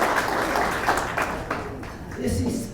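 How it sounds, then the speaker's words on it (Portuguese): Studio audience applause on a Brazilian talk show, dense steady clapping for a guest who teaches Japanese, fairly loud and continuous before tapering off. "uma salva de palmas para ela"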